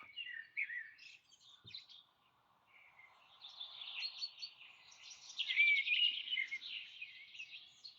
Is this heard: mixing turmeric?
no